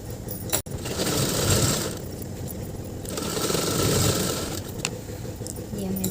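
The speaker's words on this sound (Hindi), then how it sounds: "फटाफट हम इसी तरीके से सारी सिलाई कर देती हूँ" A sewing machine stitches a kurta sleeve with a steady, continuous mechanical whir that runs close and fairly loud throughout, dipping briefly near the start before resuming.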